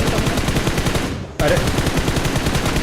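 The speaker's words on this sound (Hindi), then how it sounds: "गोली चला रहा होता है इन घर वालों पे" Rapid automatic gunfire in the battle royale mobile game BGMI, a loud, dense stream of shots that pauses briefly and then resumes, with a man giving a short exclamation.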